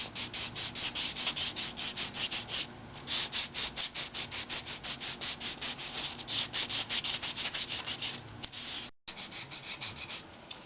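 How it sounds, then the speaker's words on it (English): 400-grit sandpaper works over the colored surface of a woodturning in quick, close, rhythmic rubbing strokes that continue steadily, briefly broken by one short pause, with no talking. "I'm going to go back to my last grit, which was 400 grit. I'm just going to kind of sand over"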